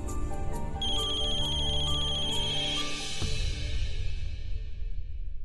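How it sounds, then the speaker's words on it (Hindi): A telephone ringtone trills in repeated electronic rings for several seconds, loud and near, fading at the end, with no voices over it. "अरे देखो ना किसका फोन है"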